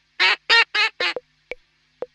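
The cartoon duck in Pocoyo quacks four times in quick, loud, nasal bursts, followed by a few short clicking blips and no talking.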